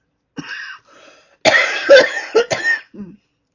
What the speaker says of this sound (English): And so I'm coughing up a storm.